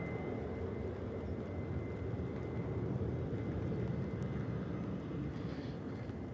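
An EasyJet airliner turning onto final approach at Manchester Airport gives a steady, broad distant roar of jet engines that holds even throughout, with a faint whine above it and no talk.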